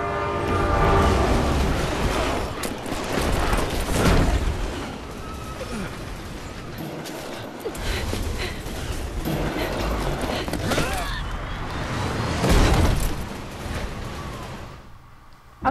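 A train rumbles past in Resident Evil 6, heavy rolling noise and clattering wheels throughout with loud horn blasts sounding repeatedly, the roar swelling and fading over the stretch.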